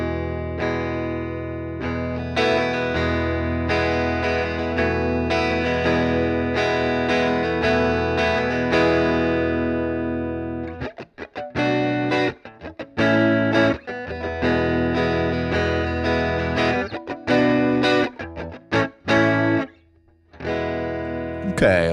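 An electric guitar runs through a Safari Pedals Twin Panda amp sim on its default preset, with sustained distorted chords first, then choppy staccato strums and brief pauses, loud and close.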